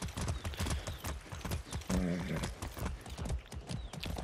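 A horse ridden in Far Cry 6 clip-clops in quick continuous hoofbeats, close and steady, with a brief whinny partway through and someone talking over the riding.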